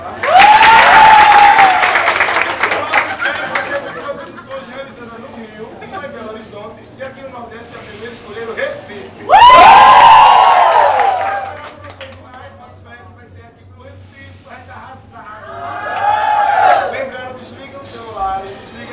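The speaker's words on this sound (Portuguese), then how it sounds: "Pode sentar aplausos pra ela." Audience at an adult fair show in Recife cheers and applauds a performer in loud bursts, with a big swell near the start, another around the middle and a smaller one later, while a host's amplified voice and music carry on between them.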